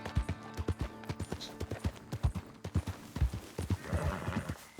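Horse hooves clip-clopping in Red Dead Redemption 2, a steady run of close, even hoofbeats with a brief whinny-like cry, alone without talk.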